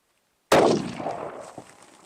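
A single loud 7mm PRC rifle shot cracks out close by during load testing at a range, then echoes and decays over about a second and a half.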